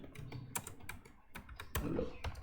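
Close-up typing on a computer keyboard, with quick clusters of sharp clacks and brief pauses, heard alone.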